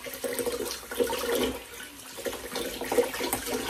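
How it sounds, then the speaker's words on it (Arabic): Tap water runs and splashes as rice is washed in a kitchen sink, a steady close gushing with bubbling swells and brief dips. "شوف انا هذه دغيا دغيا غنعمل ليها هي باش نجد الماء"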